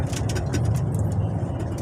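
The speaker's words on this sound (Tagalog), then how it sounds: "Traffic na naman ang truck lane." Road traffic in the C5 truck lane, heard from inside a truck cab: a steady low rumble of engines with a brief hiss and passing vehicle noise nearby, and no clear talking.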